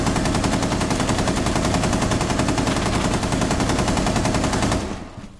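Rainbow Six Siege gunfire on the Consulate map: a long automatic burst of rapid, evenly spaced shots fired up close, lasting about five seconds and then ending abruptly, with no speech.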